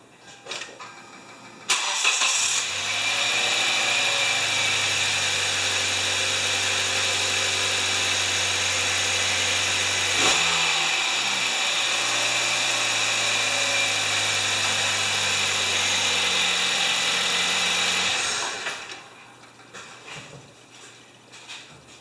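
A 2010 Kia Soul engine starts and runs after a spark plug change, a close, steady hum with a low drone that shifts briefly midway, then shuts off and falls away to quiet.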